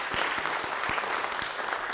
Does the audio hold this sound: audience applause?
yes